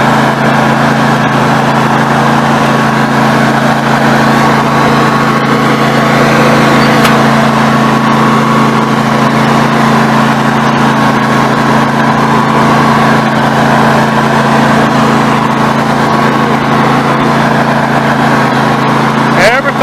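Snapper NXT 25-48 riding mower engine idling steadily and loudly throughout, a continuous droning hum with a newly changed carburetor, warming up before full throttle.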